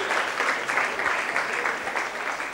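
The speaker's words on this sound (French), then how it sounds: "Allons-y sous vos applaudissements" A crowd at a foundation event applauds steadily, a moderately loud wash of many hands clapping, continuous and even without pauses or speech over it.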